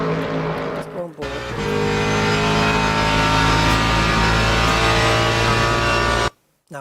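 A race car in a racing sim video game roars with a loud, steady engine drone. The pitch dips and blips near the start as the driver brakes and shifts down, and the sound cuts out briefly just before the end.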